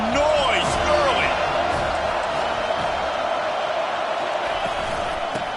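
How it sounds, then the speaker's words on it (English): Football stadium crowd at an FSU versus Iowa State game roars in a steady, loud wash of cheering throughout, with a commentator's voice heard over it. "This crowd bringing the energy and noise early."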